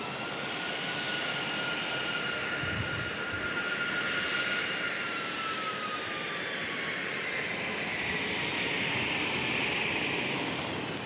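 A passenger jet landing at San Diego International Airport, its engine roar steady and loud throughout, swelling slightly near the end as it rolls out.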